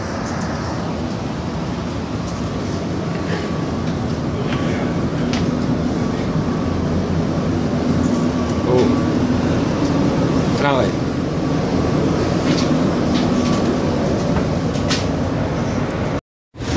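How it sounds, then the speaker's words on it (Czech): A number 1 tram rolls through Sarajevo, heard from on board as a steady rumbling drone with faint squeals and clicks over the rails, continuous throughout and cutting off abruptly at the end. "Evo, ovaj broj 1 ide na baš čaršiju, pa ću ja se ukrcat odmah."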